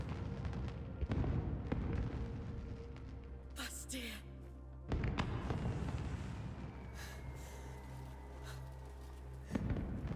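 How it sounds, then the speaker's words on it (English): Fireworks booming in the background of the video game Crimson Desert, a few deep, rumbling bursts and crackles spread across the moment, partly under a voice speaking and game sounds. "Crazy how there's just fireworks going off in the background while we have this emotional moment"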